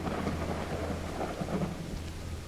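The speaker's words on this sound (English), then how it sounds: "It's raining cats and dogs here." Steady heavy rain pours with low rolling thunder rumbling underneath in the Call of the Elder Gods video game, loud and continuous with no voices.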